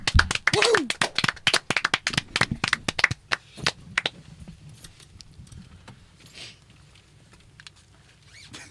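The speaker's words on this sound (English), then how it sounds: "Round of applause. Let's bring him on." Comedy club audience at an open mic night bursts into loud, dense clapping and a few whoops, strong for about three seconds before thinning out into scattered claps and a low crowd murmur.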